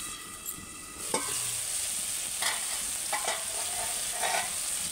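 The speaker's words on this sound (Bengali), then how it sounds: "দিয়ে ভালো করে মশলাটা তেল ছাড়া পর্যন্ত কষে নেবো।" Spice paste with salt, curry leaves and a splash of water frying in oil for a bitter gourd curry, a steady close sizzle with a few scraping stirs, no talking.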